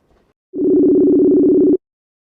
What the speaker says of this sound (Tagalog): So atong tawagan.